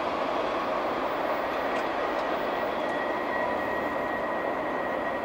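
A CSX freight train passes with a continuous heavy rolling roar and a faint steady whine, loud and unbroken throughout.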